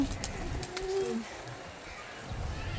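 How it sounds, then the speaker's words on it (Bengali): Pigeons kept at a home coo in low, soft, repeated murmurs, moderately close, against a quiet outdoor background. "আমাদের পায়রা"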